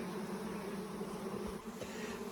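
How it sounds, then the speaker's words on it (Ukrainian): A steady, droning hum of many bees buzzing close by, continuous and even, with a few soft rustles underneath and no voices. "А бджола все одно працює."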